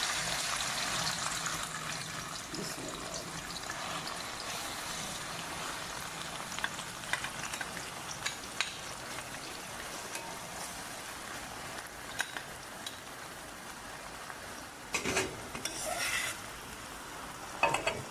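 Chopped green onions sizzling in hot ghee or oil for an achari fish dish, with a steady frying hiss throughout and occasional stirring scrapes near the pan.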